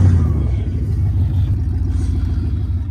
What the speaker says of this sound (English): Go plywood burnouts.